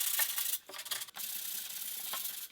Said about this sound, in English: I'm gonna go in with a 220 grit just to sand down all of the areas